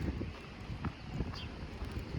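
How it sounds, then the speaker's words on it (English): Gusty wind at Bluffers Park in Scarborough, Toronto, buffets the microphone with a low, rumbling roar that rises and falls throughout, loud and close. "It's a little windy right now."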